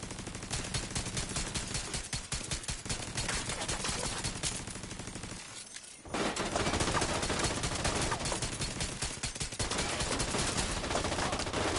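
Pistol fire in a video game, a fast, steady string of close, loud shots with one brief pause midway before the shooting picks up again, no talking.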